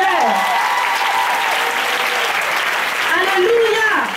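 A church congregation applauding in praise, loud sustained clapping from many people filling the space, with raised voices calling out over it.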